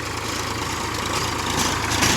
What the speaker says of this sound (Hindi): रुक जाइए ट्रैक्टर को जाने देते हैं, उसके बाद बात करते हैं।